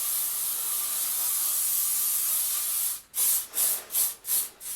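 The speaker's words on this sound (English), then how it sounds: "now you're going to grab your hairspray again and then hairspray all this front" Hairspray hisses onto hair in a long, steady, close spray for about three seconds, followed by five short, rhythmic bursts.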